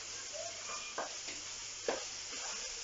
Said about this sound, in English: I'm just stirring it.